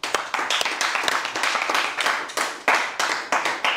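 An audience claps in a steady, fairly close burst of applause with loose rhythmic hand strikes, acclaiming the Lord at a religious gathering.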